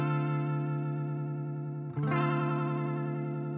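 A sustained electric guitar chord rings through a Maestro chorus pedal with a shimmering, wavering modulation; a brief dip near the middle gives way to a restruck chord as the speed setting changes, and no one speaks.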